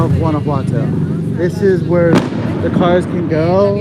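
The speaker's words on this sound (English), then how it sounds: "if you can hear the fireworks and the cannons in the background" A single sharp boom from fireworks or cannon fire rings out in the middle, set well back in a street tunnel in Guanajuato, Mexico, while someone talks steadily in the foreground throughout.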